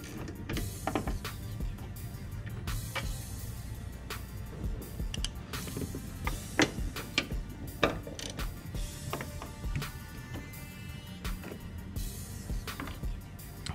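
A 10 mm socket ratchet with an extension backs bolts off the radiator area of a 1997-2004 C5 Corvette, giving steady close mechanical clicking and ratcheting with a few sharper metallic knocks throughout.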